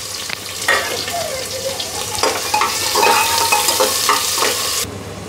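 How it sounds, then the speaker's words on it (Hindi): Onions fry in oil after cumin in a pressure cooker for potato and pea khichdi, a loud, close sizzle overlaid with repeated scraping stirs that cut off sharply near the end. "इसके बाद ऐड करेंगे हम प्याज, इसे गोल्डन ब्राउन होने तक भूनेंगे अच्छे से"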